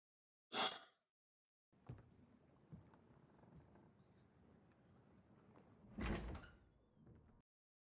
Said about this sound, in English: Unlocking the door